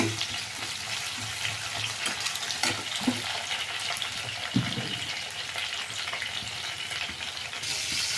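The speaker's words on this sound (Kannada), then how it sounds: "ಈಗ ಇಲ್ಲಿ ಟೊಮೆಟೊ, ಹಸಿಮೆಣಸಿನ್ಕಾಯಿ, ಬದನೆಕಾಯಿ ಫ್ರೈ ಆಗ್ತಾ ಇದೆ" Tomato, green chili and brinjal frying in oil, a dense continuous sizzle with occasional stirring knocks and scrapes, close up with no speech.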